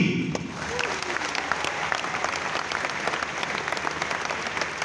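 A large audience applauds loudly and continuously as NEET toppers come onto the stage, the dense clapping overlaid with faint voices.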